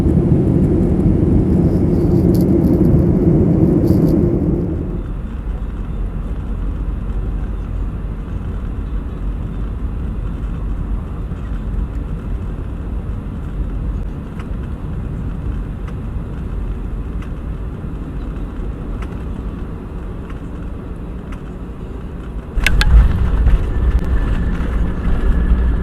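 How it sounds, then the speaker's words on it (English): Steady low rumble inside an airliner cabin during boarding, a loud broadband drone that drops to a quieter hum after a few seconds, then swells again near the end with a brief clatter. "it's 6:01 and I am on the plane"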